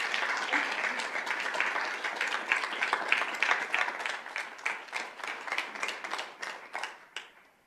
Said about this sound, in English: If she would stand first so we can give her a big round of applause.